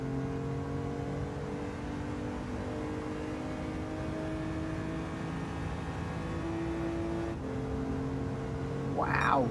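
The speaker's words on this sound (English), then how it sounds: "Mazda screaming over the mountain in the dark" A Mazda race car in Gran Turismo 7 screams steadily at high revs through a dark mountain stretch, one sustained engine note with shifting harmonics and a brief upward rev near the end.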